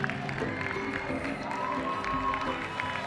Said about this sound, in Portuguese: Uma salva de palmas para todo o elenco e o pessoal da produção do Coração de Neon!